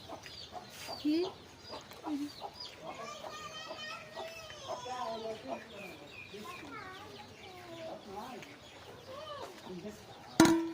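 A bird clucks in short bursts as a cat tries to catch it, heard under a person talking almost continuously, with a louder squawk at the very end.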